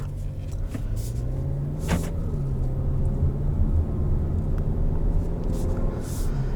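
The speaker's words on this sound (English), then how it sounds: "now we're driving the Arteon" A 2020 Volkswagen Arteon R-Line driving on the road, heard from inside as a steady low engine and road rumble with tyre noise, continuous and moderately loud, with no talking.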